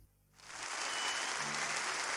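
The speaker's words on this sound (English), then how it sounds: "We all hurried to clap." In the visual novel Kinkoi: Golden Loveriche, after a brief quiet moment, applause from many hands breaks out and swells into a dense, sustained clapping.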